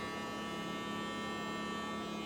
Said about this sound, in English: I'm gonna use the shaver like everybody else do.